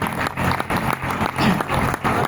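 An audience claps at a poetry recital held at the Bulandshahr exhibition fair, a short burst of applause that stays fairly loud and dense from start to finish.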